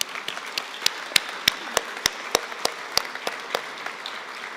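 Sparse, scattered handclaps from a commencement audience at the Pacific Northwest College of Art, distinct individual claps at an uneven rhythm, fairly quiet and thin as if only a few people are clapping.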